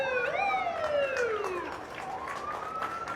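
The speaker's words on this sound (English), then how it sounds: "We'll hear some sirens coming through for a few moments here." Firefighters' vehicle sirens sound during a St. Patrick's Day parade in St. Augustine, Florida, with loud overlapping wails rising and falling in pitch and passing close by over crowd noise.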